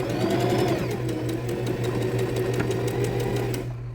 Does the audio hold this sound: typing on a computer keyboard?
no